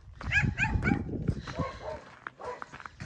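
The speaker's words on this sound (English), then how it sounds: "there's a dog down here and they just keep it on a chain all the time" A dog kept on a chain on a farm in the Algarve, Portugal, barks and yips in a quick burst of sharp, fairly close barks, followed by whimpering, tense whines.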